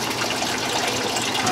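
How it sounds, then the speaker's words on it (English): Tap water running steadily and draining into a bucket below a simple homemade sink, a continuous close gushing with no voices. "Running water."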